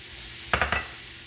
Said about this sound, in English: All right, so we're going to saute those.